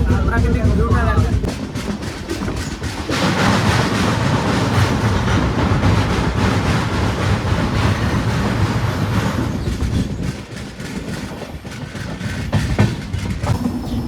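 A tourist special train runs along the Sevoke main line through the Dooars, its continuous rumble and rhythmic wheel clatter loud and steady from inside the carriage, with faint voices mixed in.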